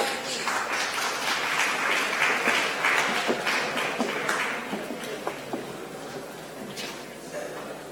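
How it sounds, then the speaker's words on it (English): Audience clapping at a live design competition, a full burst of applause that gradually thins into scattered claps and fades toward the end. "A lot of applause, please."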